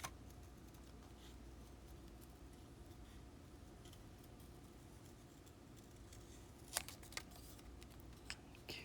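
Scissors snip out a colored paper doll image, faint and close, with a few sharper cuts standing out over a low steady background hiss.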